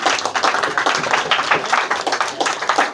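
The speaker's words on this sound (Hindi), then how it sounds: "ताली बजाइए इनके लिए" Children clapping together in a room, a steady burst of dense applause that runs throughout, loud and close, with no talking.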